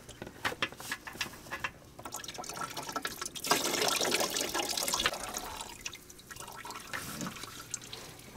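Coolant pours out of a loosened lower radiator hose on a Volvo 850. The liquid splashes and gurgles steadily for several seconds, loudest midway, with lighter drips before and after.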